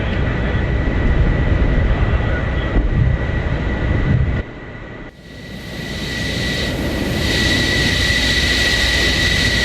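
An F-14 Tomcat in DCS World climbs out after takeoff, its jet engines producing a loud, steady roar and broadband rush that dips briefly midway and then swells back up, with no voices.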